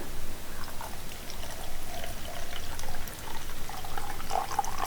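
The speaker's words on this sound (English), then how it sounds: "if you have a big cup and you're slowly pouring" Liquid poured slowly and steadily into a large cup, a continuous soft trickling wash running throughout without a break.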